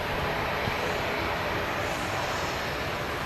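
An easyJet airliner holds on the runway at Manchester Airport, its jet engines giving a steady, loud broadband roar that stays constant with no voices over it.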